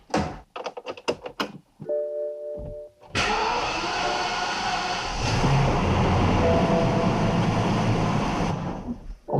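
A BMW 760Li V12 with a faulty fuel pump and rough running clicks a few times and whines briefly before cranking over, then catches and settles into a loud, steady idle close to the microphone, with no talking.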